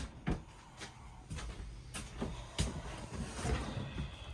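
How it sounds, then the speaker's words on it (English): Soft-closing drawers in a 2022 Forest River Sierra Luxury 384QBOK fifth-wheel RV slide shut on their own, giving a series of soft thumps and rolling glides over a few seconds. "I think once you push them about halfway back in,"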